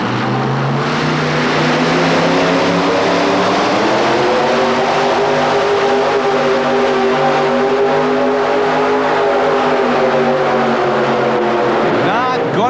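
A modified 4WD classic Ford pulling truck roars at an indoor truck-pull event in a civic center, a loud sustained engine howl with rising and shifting pitch, under a crowd and announcer's voice.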